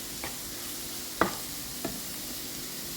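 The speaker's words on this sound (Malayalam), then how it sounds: "അതിങ്ങനെ ചെറുതായിട്ട് ഇതിലോട്ടൊന്നിങ്ങനെ ഇട്ട് ഇതിലൊന്ന് നമുക്ക് ഒന്ന് വഴറ്റാം." Maida flour sautéed in a pan gives a soft, even frying hiss broken by three quick spatula scrapes, the middle one loudest, without any voices.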